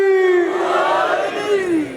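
A gathered Shia Muharram congregation at a majlis chanting the religious slogan Nara-e-Haidari in unison, a loud, sustained collective shout with a rising and falling vocal swell over two seconds.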